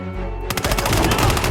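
Automatic gunfire in the video game Hitman 2 breaks out after a short lead-in as a rapid, loud burst of shots in fast regular succession, close and dominant throughout.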